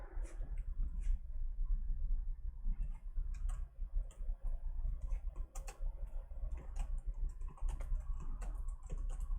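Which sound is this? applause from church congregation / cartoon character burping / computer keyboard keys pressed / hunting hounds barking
computer keyboard keys pressed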